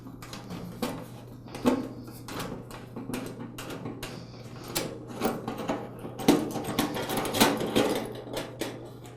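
Screws come out of the valve assembly on a Char-Broil Tru-Infrared gas grill, heard as close, irregular metallic clicks, taps and light rattles of a driver and hardware over a faint steady hum, with no talking.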